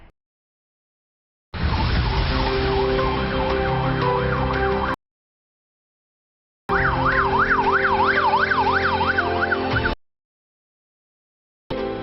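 A bike ambulance for injured birds sounds its electronic siren in two long wailing bursts of about three seconds each, separated by silence, then starts a third burst. The wail rises and falls steadily, loud and near.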